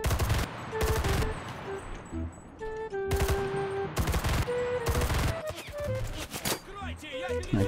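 Rapid bursts of submachine-gun fire in the online shooter Enlisted crackle close and loud, repeating in several short volleys with brief pauses between them, over a busy battlefield background.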